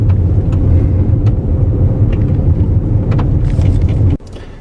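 A 2014 Jeep Patriot or Cherokee Trailhawk drives a narrow off-road ranch trail, heard as a loud, low, steady engine and road rumble from inside, with a few knocks before the noise drops sharply near the end.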